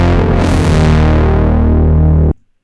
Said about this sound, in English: I'm gonna push on the unison, make it nice and wide sounding.